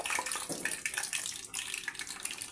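Eggs deep frying in hot oil for a tomato egg curry: a bright, continuous hiss of bubbling and crackling fills the clip, close and fairly quiet, with no voices.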